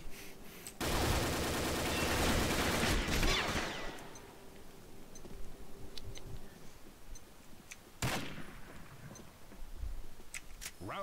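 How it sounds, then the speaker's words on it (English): Gunfire in a multiplayer shooter game with an M6-A2 SRT and MP5 RAS loadout: a dense rapid burst of automatic fire lasting a few seconds, then scattered distant shots and a second sharp report, mid-level and unaccompanied by talk. "What the fuck is shooting at me?"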